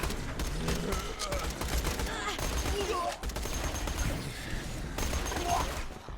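Rapid gunfire from the Borderlands 2 video game, bursts of loud shots rattling in quick succession for several seconds with a voice talking over them.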